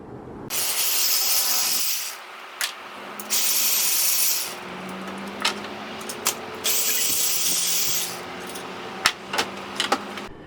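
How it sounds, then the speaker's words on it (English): Power tool bursts, likely an impact wrench, removing alternator bolts on a Chevy LS engine: three sustained whirring runs of a couple of seconds each, separated by short clicks and taps, close and fairly loud. "I'm going to take off probably 1, 2 bolts, leave the bottom, try to swivel the alternator"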